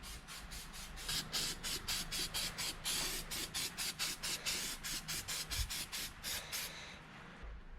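White developer spray hissing from an aerosol can onto a 1965 Toyota F135 engine head during crack testing, a steady run of short rhythmic bursts, close and fairly loud.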